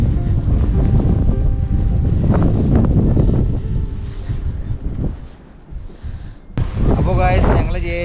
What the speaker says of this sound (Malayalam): ഇതിൻ്റെ ഇടയിൽ കൂടി കാറ്റും കൂടി വന്നു കഴിയുമ്പോൾ നല്ല രസമാണ്